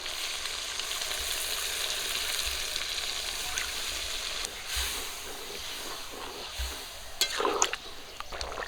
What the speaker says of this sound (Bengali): মাংস ভালো করে কষিয়ে নিয়েছি রস করার জন্য জল দিয়ে দিচ্ছি